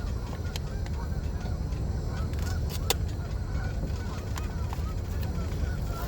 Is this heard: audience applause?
no